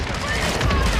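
Gunfire and explosions in the video game Call of Duty, a rapid, dense burst of shots with booming impacts, loud and close, while a player talks over it.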